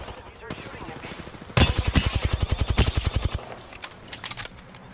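Rapid automatic gunfire in a video game bursts out suddenly and rattles loud and close for about two seconds, then trails off into scattered fainter shots amid game sounds.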